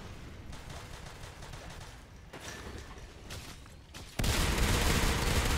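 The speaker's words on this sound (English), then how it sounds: "That was a lot of gunfire." Rapid, overlapping gunfire crackles in a competitive match of the video game Natural Selection 2, a dense barrage that grows louder and more intense toward the end.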